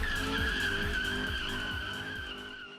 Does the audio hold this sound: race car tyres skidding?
yes